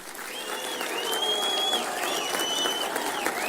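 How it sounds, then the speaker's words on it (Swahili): Sustained applause from a large crowd at a Kenyan state reception for Paris 2024 Olympic medalists in Eldoret, with high-pitched ululating cries rising over the clapping throughout. "Tuwapige makofi na vigelegele."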